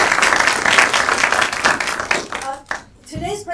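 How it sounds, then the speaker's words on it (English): Audience at a lecture gives a short round of applause, a burst of clapping that fades within about two and a half seconds before a voice starts speaking. "let's give you an initial round of applause for you"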